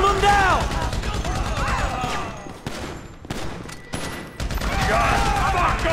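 Rapid gunfire in GTA V during a bank-robbery shootout against a private army near a train, with dense overlapping bursts of shots, a brief lull midway, then heavy fire resuming loudly to the end.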